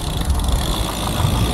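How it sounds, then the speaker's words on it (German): A car passes on a narrow mountain road near a castle, its engine a steady, fairly loud low rumble throughout the short moment with no voices over it. "Was, da kommt sogar ein Auto?"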